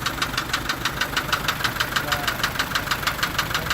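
An Isuzu engine knocks at idle with a fast, regular metallic ticking, about five clicks per second, steady and fairly close over a low engine hum, with no speech.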